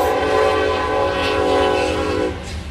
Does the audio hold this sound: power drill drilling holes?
no